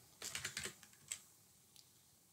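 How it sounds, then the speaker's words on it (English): A quick burst of keystrokes on a computer keyboard: several soft, close clicks come in a fast run, then a single key press and a faint final tap, with nothing else heard. "I'm going to type in headlines. I'm going to type in font, lists,"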